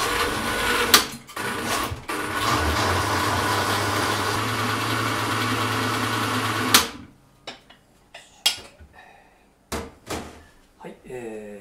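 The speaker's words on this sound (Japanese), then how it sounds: "ミキサーに入れてこれから滑らかにしていきます" A blender whirs steadily for several seconds puréeing watercress soup, then cuts out, followed by scattered knocks and clatter of utensils, nearby.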